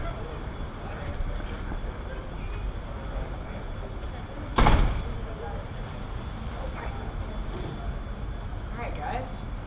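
A door is pushed open from a university building hallway to go outside, giving one loud clunk midway, set against a steady background of indistinct voices and hallway noise.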